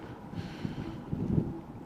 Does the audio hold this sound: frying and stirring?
no